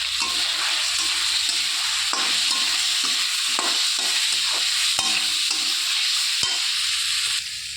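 Boiled potato, taro and fried lentil dumplings stir-fried in fish masala in a pan make a steady loud sizzle and hiss, with repeated scraping and clacks of a spatula against the pan, near and without speech.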